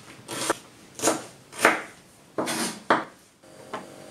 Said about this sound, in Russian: Лук мы порезали